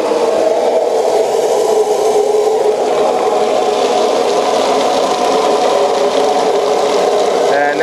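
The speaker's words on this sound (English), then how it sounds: "And that's just idling." A steady, loud mechanical drone with a whirring hum holds constant throughout from a trailer sewer jetter engine idling close by.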